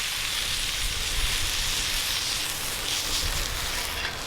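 The fat side of a tomahawk steak searing over an outdoor firepit, giving a steady, loud broadband sizzle that holds unbroken throughout.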